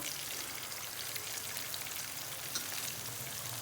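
Tomatoes and green chillies hit a pan of frying kaleji (liver) masala, producing a dense, even sizzle like light rain on a surface, steady and close throughout with no talking.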